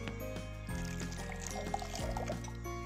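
Filtered water pours in a steady thin stream into a bowl while making pani puri water, quiet and close, with a faint tonal hum behind it.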